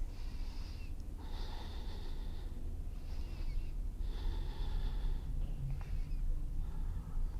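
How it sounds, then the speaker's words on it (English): During a yoga hip-flexor stretch, slow deep breaths are drawn in and pushed out in several long, airy waves that are close and fairly steady, with no talking. "And breathe."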